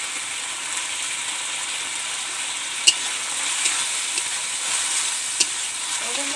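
Small country tomatoes fry in hot oil for a fish curry, giving a steady bright sizzle throughout with a few sharp spatters and pops, close and fairly loud, with no talking.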